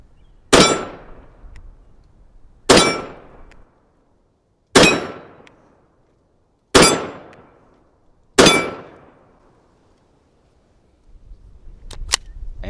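Federal Punch .22 Magnum rounds fired from a Walther WMP pistol: five sharp, loud shots about two seconds apart, each cracking hard and then ringing away before the next.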